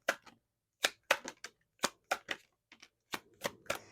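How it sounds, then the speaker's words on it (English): Oracle cards being shuffled by hand in a quiet room, a string of about a dozen crisp, close riffling snaps arriving in quick irregular bursts with brief pauses between them. "right now when I was shuffling, it was that caution card that almost flew out"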